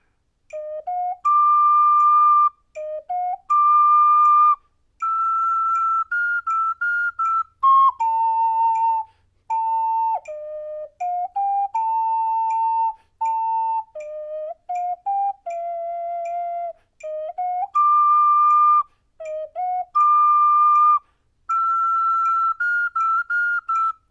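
A double ocarina plays the melody of Song of Storms, pure whistle-like tones in short phrased bursts with brief gaps between notes, close and clean, alone without talk.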